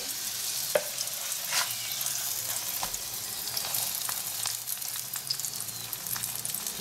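Chili fries in a pan over a medium gas flame, a loud, steady sizzle and crackle with scattered pops and a few utensil taps, while a voice speaks briefly.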